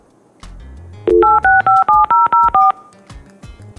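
A voice-controlled computer phone in an environmental control unit dials out: a short lower tone, then a loud, clean run of seven DTMF beeps in an even rhythm, with quiet device chatter around them.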